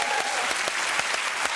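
Studio audience at a television talk show applauding, dense close clapping throughout a brief burst, no other sounds on top.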